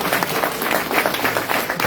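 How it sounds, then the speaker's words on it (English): An audience applauds a panel at a regional economy event, dense clapping from many hands filling the short stretch at steady loudness with no voices over it. "give a round of applause to"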